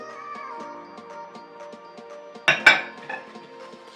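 A spoon clinks and scrapes against a bowl while sugar is spooned in, with a couple of louder clatters partway through and quieter tapping around them.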